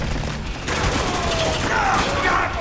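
Rapid gunfire in the war shooter Spec Ops: The Line, a dense burst of overlapping shots and booms filling the short stretch, with game voices shouting beneath.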